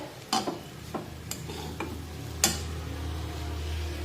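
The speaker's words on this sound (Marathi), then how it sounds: "मीठ सगळीकडे व्यवस्थित लागलं पाहिजे अशा पद्धतीने आपल्याला हे सर्व मिश्रण हलवून घ्यायचं आहे" Leftover chapati mixture stirred with salt in a pan: a few sharp scrapes and clinks of a spoon against the pan over a low, steady sizzle, close by with no talking.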